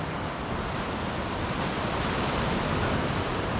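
Ocean waves at Venus Bay make a steady, broad roar of surf that fills the whole clip at an even, loud level, with no talk heard.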